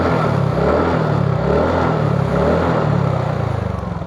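A TVS NTORQ scooter with its engine upgraded from 125cc to 150cc runs steadily nearby, giving a deep, droning hum with a faint easing off toward the end. No one speaks.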